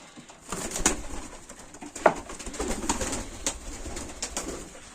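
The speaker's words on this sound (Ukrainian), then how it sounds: "Голубинка на яйця покидала." Pigeons cooing in a loft where a hen is sitting on eggs, with soft repeated coos and low throaty calls rising and falling at close range, along with light rustling and an occasional wing flutter, and no talking.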